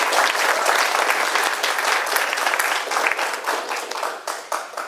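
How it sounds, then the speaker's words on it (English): A forum audience breaks into steady, dense applause for a speaker, sustained clapping filling the room throughout with only slight dips near the end. "So an applause for Sharon."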